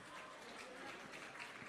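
Audience applause at a beauty event, a dense steady wash of clapping throughout, fairly faint and distant, with a little voice underneath.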